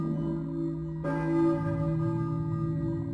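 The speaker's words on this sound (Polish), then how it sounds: "Słyszę... Kościół. Dzwony kościelne." Church bells toll in the Silent Hill video game, a sustained resonant ringing with layered overtones that swells with a fresh strike about a second in, then keeps humming and decaying, clear and unaccompanied by speech.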